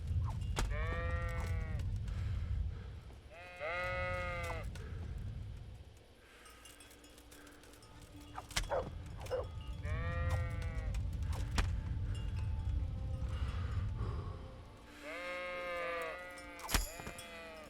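Sheep bleat several times in spaced bursts in the video game Kingdom Come: Deliverance, over a low, rumbling background, with occasional sharp thuds in between.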